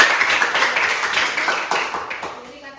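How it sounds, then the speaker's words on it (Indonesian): Classroom of students clapping together after a teacher's prompt during a lesson, a dense patter of claps that gradually thins out, with some voices mixed in. "Oke, bagus sekali. Beri tepuk tangan"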